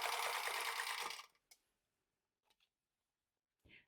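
A sewing machine stitches a scant quarter-inch seam on a quilt block, a close, rapid mechanical whir lasting about a second, then stopping, followed by a few faint clicks and a short rustle.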